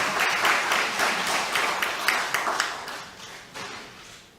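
A crowd at a university alumni family night breaks into applause, dense overlapping hand clapping with sharp individual claps standing out, fairly loud and close, lasting a few seconds without talk.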